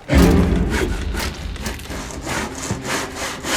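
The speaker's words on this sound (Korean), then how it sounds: "수상한 남자가 톱으로 무언가를 자르고 있고" A handsaw rasps steadily back and forth through wood upstairs in a house, each close, loud stroke running into the next with a rough grating texture and no voices.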